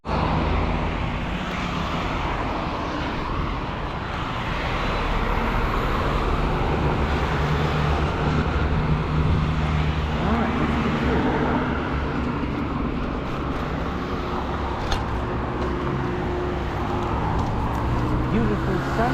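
Steady road traffic with cars passing continuously on a sunny day, a dense broadband roar that stays loud and even throughout with no pauses, picked up by a GoPro HERO 11 with a windscreen muffler.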